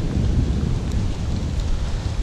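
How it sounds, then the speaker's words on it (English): Pouring rain with thunder during a September fishing outing, a dense steady downpour hiss layered over low rolling thunder rumble, loud and continuous with no talking. "Look at that pouring rain back there."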